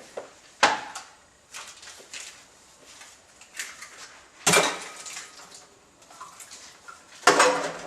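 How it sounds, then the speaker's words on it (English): A cover goes onto a cooking pot of Linhu soup with tofu. Several sharp metallic clanks and clatters are spaced irregularly over quieter kitchen handling noise, close by, with no talk. "Put a cover on it."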